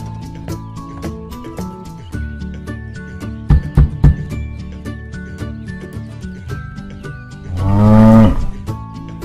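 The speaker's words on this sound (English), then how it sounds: "Cow." A cow lets out a single loud, low moo lasting under a second near the end, following upbeat children's music with a few drum knocks.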